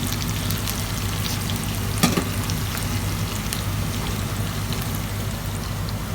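Onion sautéing in a hot pan over high heat, a steady dense sizzle and crackle throughout with a brief clatter near the middle, close and fairly loud with no talking.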